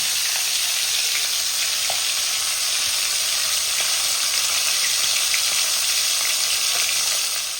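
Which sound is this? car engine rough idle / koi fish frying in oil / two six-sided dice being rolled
koi fish frying in oil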